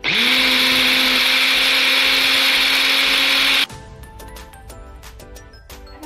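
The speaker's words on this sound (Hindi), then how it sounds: "अच्छे से ब्लेंड कर लें।" A blender grinds green chilies, fresh mint and coriander with a loud, steady high-pitched whir that cuts off abruptly partway through, followed by quieter clattering.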